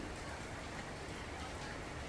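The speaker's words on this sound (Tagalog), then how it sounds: "Umuulan na. Lakas ng ulan." Heavy rain pours down outdoors, a broad, unbroken wash of hiss and patter that stays even and fairly soft throughout, with no talking over it.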